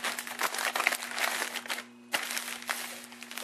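A paper envelope holding a mailed parts directory is slit open with a blade, giving close, continuous crinkling and scraping of paper with a brief pause midway and a low steady hum underneath.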